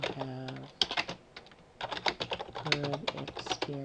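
A student types on a computer keyboard, producing quick clusters of light clicks heard close by underneath a person talking throughout.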